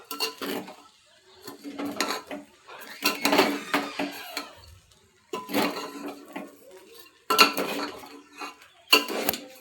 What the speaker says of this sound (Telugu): ఉప్పు వేసినాం కదా, మంచిగా కలగలుపుకోవాలి.